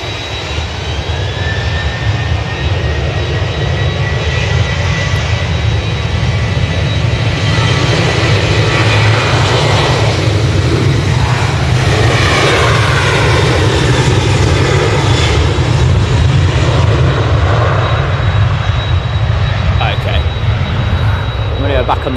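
A Ryanair jet airliner takes off down the runway at Manchester Airport, its engine roar loud, steady and broadband throughout, with a sweeping tonal whine rising and shifting as it passes.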